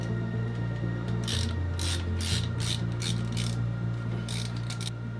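Ratchet working exhaust manifold nuts loose on a boat's 454 big block, a series of quick, close rasping clicks in bursts over a steady low mechanical hum.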